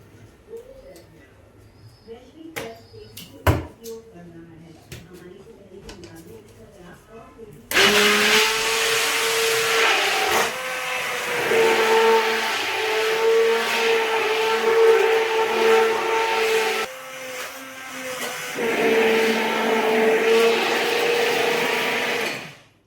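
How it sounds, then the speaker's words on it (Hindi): An electric blender whirs loudly and continuously while churning cream and water into butter, its motor pitch shifting a few times after quieter clinks and handling noises at the start. "और अब मैं इसको बिलोना शुरू करती हूँ।"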